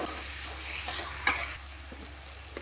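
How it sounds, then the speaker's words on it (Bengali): Potatoes being sautéed with spices in a pan, a steady soft sizzle with occasional stirring scrapes and one sharp clink, close and alone with no talk. "আলুগুলো দিয়েও মশলার সঙ্গে একটু ভালো করে কষিয়ে নেব।"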